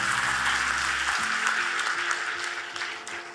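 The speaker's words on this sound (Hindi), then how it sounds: "इसके लिए तालियां।" Audience applause at a law school moot court inauguration: a steady spread of clapping throughout, lightly thinning toward the end, with a low sustained hum or tone underneath for the first second.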